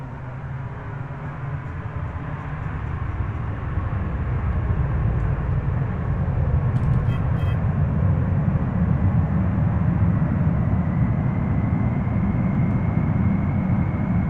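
A spaceship lifts off in the video game Dual Universe with a loud, steady, low engine roar that swells over the first few seconds and then holds as a constant heavy rumble.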